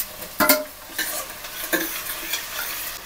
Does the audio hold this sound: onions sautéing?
yes